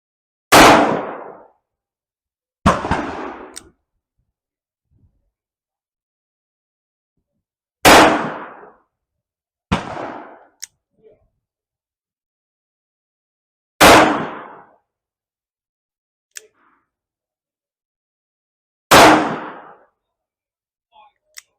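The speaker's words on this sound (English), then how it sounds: "let's cap up our 1851 London Navy by Uberti and take our shots" Shots from an Uberti 1851 London Navy black powder revolver in a shooting competition, six loud, sharp reports spaced several seconds apart, each with a short decaying tail, with silence between them.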